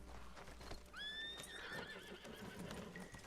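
A horse in the video game Red Dead Redemption 2 gives a loud, rising whinny with clip-clopping hooves around it, over a low constant game background.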